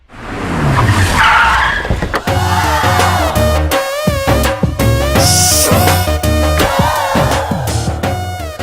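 Cars arrive with tyres skidding and squealing over loud dramatic film music, engine noise and braking sounds rising and falling through the scene.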